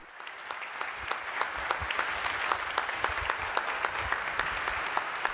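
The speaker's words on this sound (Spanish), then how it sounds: "Inmediatamente el aplauso de todos los presentes a la homilía que el Papa León ha pronunciado" Applause fills a cathedral after a homily by Pope Leo at a prayer meeting with bishops and consecrated religious, a steady, dense wash of many hands clapping at moderate volume throughout.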